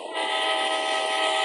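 A train at a railway station sounds a loud, sustained horn-like tone that begins abruptly and holds steady and close for the whole moment, with no talking over it.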